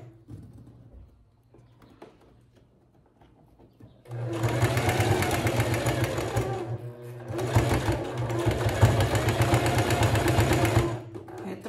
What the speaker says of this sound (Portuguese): eu só chego aqui e termino de costurar a capa da minha almofada